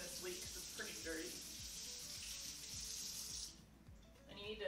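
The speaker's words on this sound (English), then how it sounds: "I'm just washing this leek because it's pretty dirty." Tap water running into a kitchen sink while a dirty leek is rinsed under it, a steady splashing hiss with soft knocks of handling, cutting off briefly near the end before resuming.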